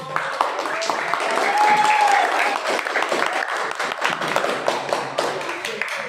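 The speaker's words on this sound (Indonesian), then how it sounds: "tepuk tangan untuk teman kalian" Students applaud a classmate in a university guidance and counseling class, a burst of quick claps that swells, then thins into scattered taps while voices talk over it.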